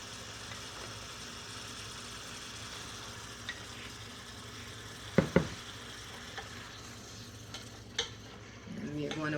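Firm tofu fries in a pan with a soft, steady sizzle while a utensil scrapes and stirs it, with a few sharp knocks against the pan and quiet background hum.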